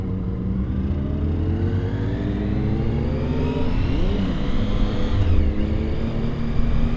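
Triumph Tiger Sport 1050 motorcycle engine running loud and close, a steady throbbing drone with a rise and fall in pitch partway through, and no talk.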